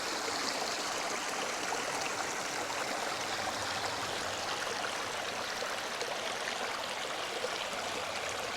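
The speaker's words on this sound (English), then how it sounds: "Water movement, the sound of water" Water flows steadily in a garden pond with a small waterfall, a continuous, soft trickling and gurgling rush that stays even and fairly faint throughout, with no voices.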